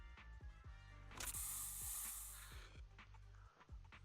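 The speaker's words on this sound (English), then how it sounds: "Have a taste of this special Bangbu spray!" Special Bangbu spray in the Zenless Zone Zero video game, a loud hissing burst of spray that swells and holds for over a second amid game music and mechanical ticks, then cuts off.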